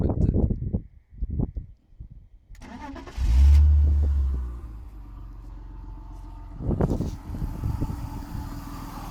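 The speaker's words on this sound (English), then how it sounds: "Lovely straight six engine note." A 2000 BMW Z3's 2.0 straight-six engine cranks and catches, gives a brief loud rev, then settles into a smooth, steady running hum, with a person talking before and after.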